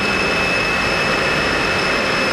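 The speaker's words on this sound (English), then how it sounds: "Airplane's running in good shape." A Lockheed T-33 jet airplane engine runs on the ground with a loud, steady roar and a high, constant whine, unbroken and near throughout.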